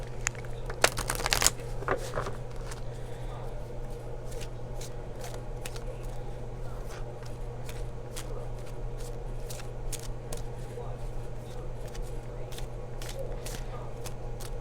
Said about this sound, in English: And I will pull a couple of Romance Angels cards